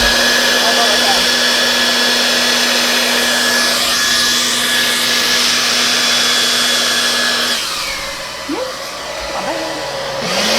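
A hair dryer blows on wet paint during an art session: a loud, steady, close-up whir with a constant hum runs for several seconds, then cuts off, leaving quieter room sound.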